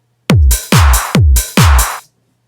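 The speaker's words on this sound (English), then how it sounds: "That classic techno-y, trance-y drum line" A techno-trance drum loop plays four loud, punchy bass drum hits in an even beat, each layered with a bright clap or hi-hat burst, ending cleanly.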